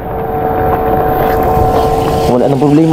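A motorboat engine drones steadily on a river during monsoon rain and strong wind, loud and close throughout, with a pitch shift near the end and wind buffeting the microphone.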